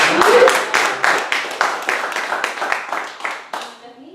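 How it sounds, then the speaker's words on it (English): A crowd claps steadily for about four seconds, a dense patter of many hands that gradually thins and fades toward the end. "Let's give a round of applause."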